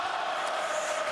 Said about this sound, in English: Naples Center crowd chanting the name of Crawford